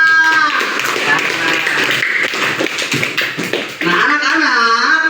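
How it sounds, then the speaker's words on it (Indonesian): A class of students clapping their hands together in a dense, fairly loud patter, with voices and chatter mixed in, especially toward the end. "tepuk tangan buat kita semua"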